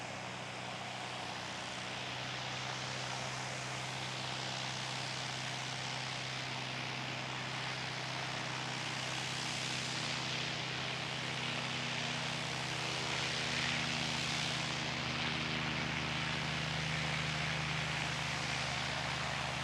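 An aircraft passes in front of an Emirates jet at Christchurch airport, producing a steady, loud engine roar with a broad hiss that swells slightly toward the middle and continues throughout without speech.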